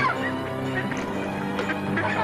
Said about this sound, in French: Allez, poussez-vous les oies, les poules, hein, les canards.